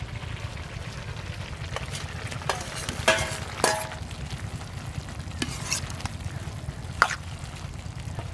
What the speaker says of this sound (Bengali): জল দেওয়ার পরে তরকারি ফুটে উঠেছে, এবার ভেজে রাখা আলুগুলো দিয়ে দিচ্ছি।